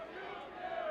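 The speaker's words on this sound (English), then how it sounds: "Crowd is enthralled once more" Stadium crowd at a USL Championship soccer match between Monterey Bay F.C. and San Antonio FC in Seaside makes a faint, distant, sustained roar that swells slightly toward the end.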